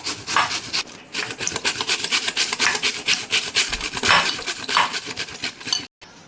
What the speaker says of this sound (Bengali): পুরোটা এইভাবে ঘষে নিই, দেখতে থাকো।